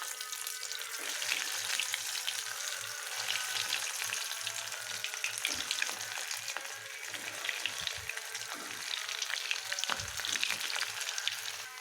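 Cutlets fry in hot oil with a continuous crackling sizzle. Scattered pops and faint clicks run through it, moderately quiet and without voices.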